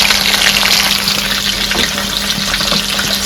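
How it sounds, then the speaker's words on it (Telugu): Chicken leg pieces frying in a pan for biryani, giving off a steady, close hiss and sizzle of hot oil that continues without a break. "ఇవి చక్కగా లెగ్ పీసులు చక్కగా ఫ్రై అవుతున్నాయండి"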